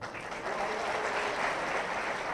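An audience claps steadily throughout, a dense, even wash of applause that is fairly loud and close.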